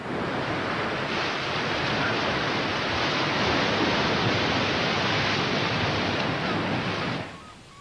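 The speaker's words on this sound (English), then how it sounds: "these cliffs have withstood the fury of wind and waves for millions of years" Atlantic surf and wind pound coastal cliffs in a steady, loud, broadband roar that holds unbroken for several seconds before easing off at the end.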